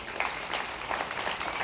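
Audience clapping at a gathering, a short burst of steady applause from a room full of people, even and continuous with slight swells in intensity.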